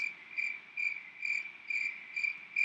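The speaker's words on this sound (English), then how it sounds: "And crickets." Crickets chirp in a steady pulsing rhythm, trilling bursts repeating about twice a second, clear and close against a quiet background.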